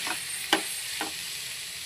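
Tomatoes frying with chicken in a pan, a steady soft sizzle broken by a few short scraping stirs of a spoon.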